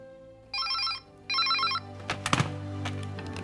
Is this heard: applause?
no